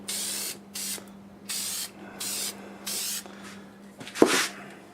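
A spray gun lays lacquer finish onto a wood turning in five short hissing bursts with brief pauses between them, then one sharper burst near the end, close and fairly loud over a steady low hum.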